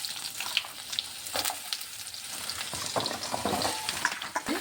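Green chillies and cumin sizzling in hot oil as mixed vegetables are tipped into the pan, a steady close crackle broken by sharp clattering stirs and scrapes, with no one talking.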